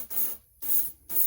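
Short bursts of spray paint hit the edges of a custom PS5 controller, three hissing blasts separated by brief pauses, close and loud.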